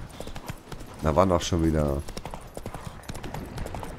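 Horse hooves clip-clop in The Witcher 3 as a skittish mount moves about, a steady run of soft hoof knocks under continuous German speech.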